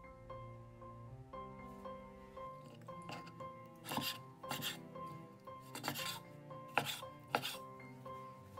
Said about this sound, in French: Coupez les encornets en bâtonnets.